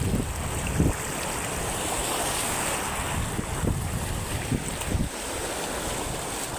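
Waves washing in against a windy shoreline, a continuous wash of surf with wind buffeting the microphone and a few splashy surges.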